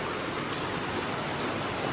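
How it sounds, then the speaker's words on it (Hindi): Heavy rain pours down in a steady, dense hiss, loud and close, with no talking. "तेज बूंदाबांदी, तेज बारिश"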